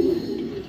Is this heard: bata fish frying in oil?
no